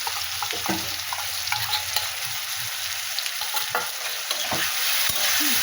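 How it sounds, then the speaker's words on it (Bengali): Loud, continuous sizzling of a soaked paste of ginger, coriander, cumin and chili powders frying in a hot pan, with scraping stirs and occasional clinks of a utensil, close up and without speech. "এটা ভালো করে আমি একটু ভাজাভুজি করে নেব এই যে ভাজাভুজি হচ্ছে"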